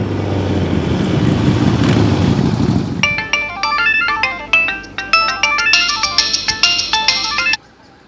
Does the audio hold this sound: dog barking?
no